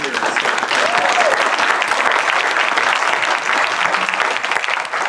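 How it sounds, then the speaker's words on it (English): A large crowd at a Honolulu County GOP event in Hawaii claps steadily and loudly throughout, a dense sustained round of applause with no pauses. "can we give a round of applause to the volunteers?"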